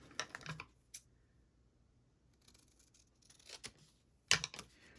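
Scissors cut paper for a scrapbook photo album, giving a few sharp, close snips and light paper rustles with quiet gaps between them.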